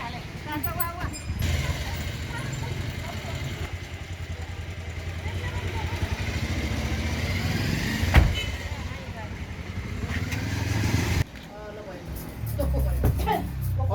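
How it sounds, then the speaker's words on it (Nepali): A motorcycle engine rumbles steadily nearby, a low continuous drone with one brief louder burst, while people talk over it. "बाइक"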